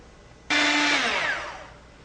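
An electric mixer whirs to life, blending dry ingredients into Black Forest cake batter: an abrupt loud motor start, a steady whine, then a gradual fade with no talking.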